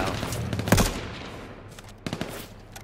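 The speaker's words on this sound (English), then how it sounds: "They're both shooting us now." Gunfire in H1Z1 Battle Royale: a loud close shot followed by a quick burst of several rapid shots, over a steady low background rumble.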